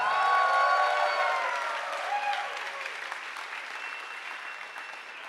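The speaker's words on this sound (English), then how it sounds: "And give a warm applause to Achim for controlling the Zeitschwein." Audience at a Berlin Science Week science slam applauds and cheers for the Zeitschwein timekeeper, whoops and shouts riding on loud clapping that gradually thins and fades toward the end.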